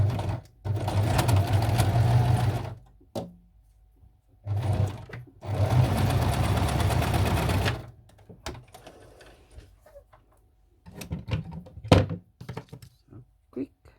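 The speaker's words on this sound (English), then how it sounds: "So I'm just quickly going to hop over to my sewing machine and to work that." A sewing machine runs in two long bursts of rapid, steady stitching on small doll clothes, separated by brief pauses, followed by softer handling clicks and thumps.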